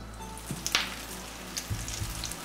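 Faint sizzling from an egg patty frying in hot oil on a switched-off stove, a soft bubbling hiss with a few sharper crackles and pops.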